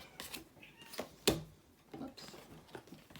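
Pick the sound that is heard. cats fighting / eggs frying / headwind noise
cats fighting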